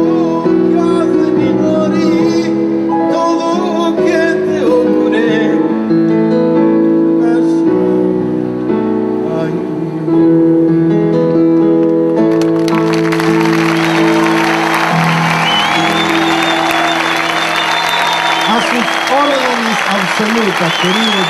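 Audience applause at an open-air stage show honoring Pepe Biondi breaks out partway through, a broad wash of clapping that rises over the tail of music and voice and continues loudly to the end.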